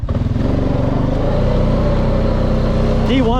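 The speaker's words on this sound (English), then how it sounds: "D2 is like a low RPM. You can hear it upshifting early" A Honda Rubicon 500 ATV engine runs in D2 at low RPM, droning loud and steady close by, with a shift in pitch near the end as it upshifts early.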